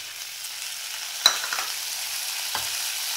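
Capsicum going into hot oil in a pan, with onion and mushroom to follow, for chicken with mushrooms; a steady close sizzle with a couple of sharp stirring clinks.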